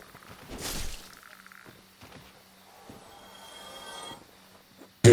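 Toads croak in the video game Dark Souls Remastered: a few scattered, low throaty croaks separated by quiet gaps, faint and close, with no talking.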